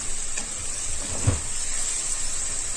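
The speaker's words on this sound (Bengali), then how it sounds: "আদা রসুনের কাঁচা গন্ধটা যাওয়া পর্যন্ত আমি এগুলোকে একটু নেড়ে চেড়ে ভেজে নেব" Ginger and garlic paste fries in hot oil in a pan, giving a steady, bright sizzle, while a spoon stirs and scrapes once or twice partway through; no voices are heard.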